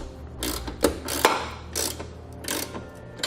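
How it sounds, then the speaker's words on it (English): Ratchet with a 13 mm socket snugging down a rear bracket bolt while nerf bars go onto a 2014 Ram 2500, giving four short bursts of quick clicking with brief metallic knocks between them, close and fairly quiet. "Now we'll grab a 13 millimeter, and I'm going to tighten this rear bolt down just a little bit"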